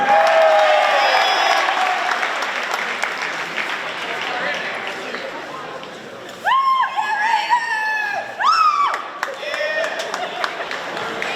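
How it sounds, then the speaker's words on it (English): A rally crowd applauds the state champion Somerset Berkeley basketball team and its coaches: broad clapping that thins out, then bursts of high-pitched whoops and cheers break in near the end. "let's hear one more round of applause for our Somerset Berkeley basketball team"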